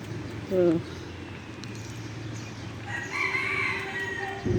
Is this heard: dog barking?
no